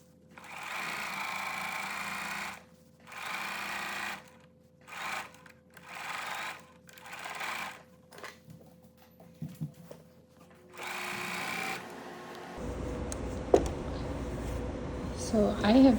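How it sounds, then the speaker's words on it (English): Sewing machine stitching a flannel rag quilt: several close bursts of steady whirring, each lasting one to two seconds, separated by pauses, ending with some handling noise and no talking. "now I am done with the sewing machine portion of this quilt"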